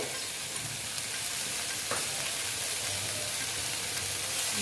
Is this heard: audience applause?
no